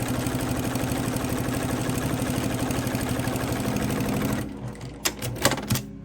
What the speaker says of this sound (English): then we're gonna sew down this side